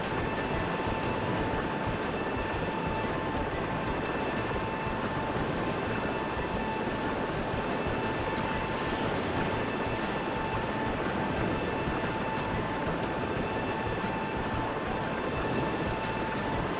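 A rescue helicopter hovers in the SAR4 search-and-rescue video game, a loud, unbroken drone with steady whining tones and no voices.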